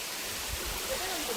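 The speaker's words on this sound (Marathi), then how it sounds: "गाईज मिडलला हा बघा छोटासा वॉटरफॉल लागलाय" A small waterfall on a monsoon trek up Torna Fort, its constant rushing splash of water running close by, with faint voices mixed in.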